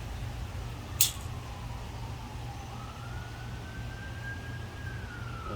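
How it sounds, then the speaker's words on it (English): Emergency vehicle siren passing outside during a car camera installation: a faint, distant wailing tone slowly rising and falling over steady low rumble, with a brief sharp click early on. "There's a siren."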